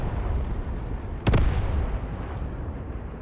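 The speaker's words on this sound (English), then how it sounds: "Yeah, more heavy artillery." A single heavy artillery shell explodes in the Graviteam Tactics: Mius Front wargame. It lands as one loud, close boom with a quick crack, then rumbles away over steady low background noise.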